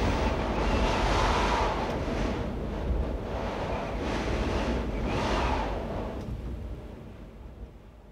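Gale-force wind and waves at sea in the German Bight make a steady, loud rushing roar heard from aboard the sailing vessel RS1 Colin Archer, easing somewhat toward the end.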